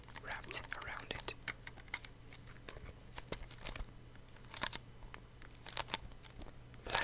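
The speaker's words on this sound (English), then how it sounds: "it makes a nice sound because it has some plastic wrapped around it" Plastic wrap on a sealed, unused Sony cassette tape is handled at a desk, producing sharp, close crinkles and crackles in irregular bursts over a quiet background.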